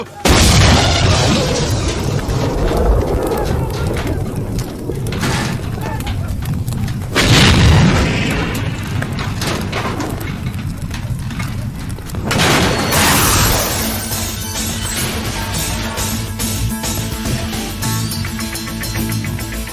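Car bomb blast in a film scene, a loud dense rumbling explosion that keeps booming with repeated bursts and rolling debris, continuous and heavy for the whole stretch with music-like layers beneath.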